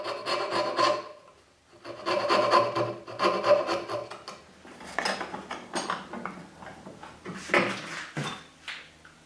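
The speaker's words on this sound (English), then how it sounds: "I use a coping saw to cut close to the baseline and remove most of the waste" Coping saw rasps through wood, clearing dovetail waste in bursts of quick back-and-forth strokes, close and dry, with short pauses between runs.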